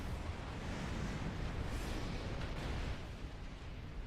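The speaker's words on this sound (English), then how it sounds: "That was a lot of explosions." Repeated explosions and heavy blasts in the space combat game Star Trek Online during a fight with Borg ships, a dense, continuous rumbling barrage that stays loud throughout.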